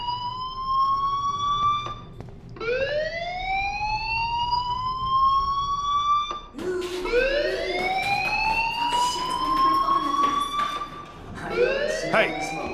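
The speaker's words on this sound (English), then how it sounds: "Hey, do you hear that fire alarm?" Fire alarm in the video game Life is Strange, sounding as repeated rising electronic whoops that sweep upward in pitch, one after another, moderately loud and continuous with brief gaps between cycles.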